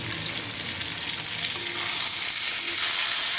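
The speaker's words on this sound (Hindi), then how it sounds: "इसको हल्के से मस्टर्ड ऑयल में सौटे करके और फिर इसमें तड़का लगाऊंगी" Carrot, peas, cauliflower and potato sauté in mustard oil in a pan, giving a loud, close, steady sizzle and frying hiss with faint stirring and no speech.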